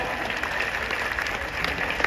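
Dense, steady audience applause at a Hindi comedy poetry show by Surendra Dubey, filling the whole stretch as continuous clapping without a break.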